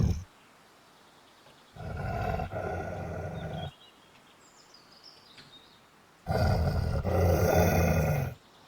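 Wolf growling and roaring as a spatial audio source in a 3D sound demo, two loud deep bursts of about two seconds each separated by near silence, with faint chirps in the gap.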